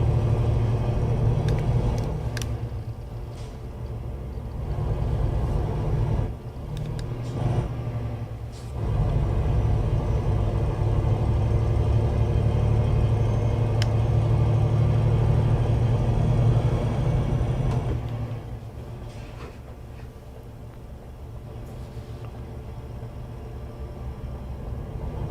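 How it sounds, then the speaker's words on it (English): A heavy truck in Euro Truck Simulator 2 rumbles steadily with a deep, droning engine note, dipping briefly a few times and easing off near the end, with no talking. "there's a heavy truck"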